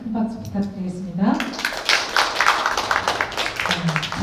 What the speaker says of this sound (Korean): 발표해 주신 이찬홍님께 다시 한번 큰 박수 부탁드리겠습니다.